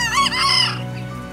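A single chicken clucks and squawks close by, one short rising call.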